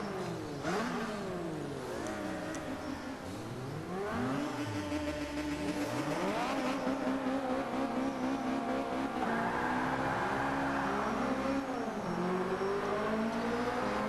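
Car racing at Silverstone circuit in Forza Motorsport 5, a modern sport compact engine revving and shifting through rising and falling gears with whine and occasional tire noise, steady and close, no talk.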